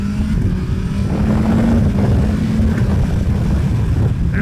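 2025 BMW S1000R four-cylinder naked superbike engine running in Dynamic Pro mode, a loud, steady, deep throaty drone heard up close from the rider's position with no talk.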